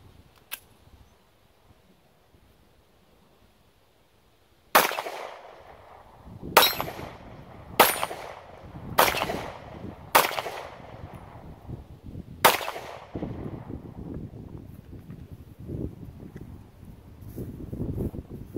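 Kel-Tec P11 pistol firing during break-in, six sharp, loud shots at uneven intervals after a quiet start, each with a ringing tail, then low clattering handling noise.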